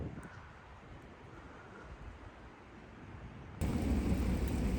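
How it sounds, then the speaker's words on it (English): Low rumbling thunder from a springtime severe thunderstorm, heard as a steady broad roar that swells louder near the end, with no voices. "That is thunder if you guys cannot tell."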